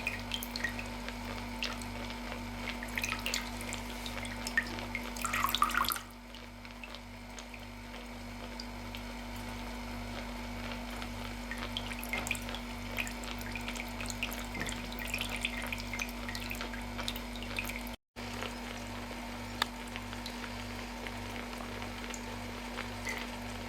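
Faint, steady dripping of distillate from a continuous still running a malt-based wash, over a constant low electrical hum, with scattered small drops and a quiet background.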